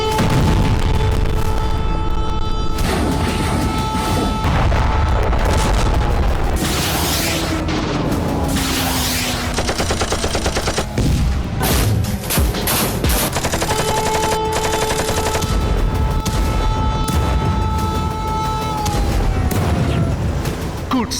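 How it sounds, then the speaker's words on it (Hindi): Loud, close bursts of automatic gunfire and heavy booms from fighting involving Ukrainian troops under Russian air strikes, layered with descending whistling tones and dense continuous noise for the full length. "रूस की वायुसेना यूक्रेनी सैनिकों पर बम बरसा रही है"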